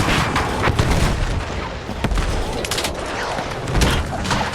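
Helicopter rockets slam into ground targets in Battlefield 6, a dense, continuous barrage of booming explosions and gunfire-like blasts, loud and steady with sharp impact bursts throughout.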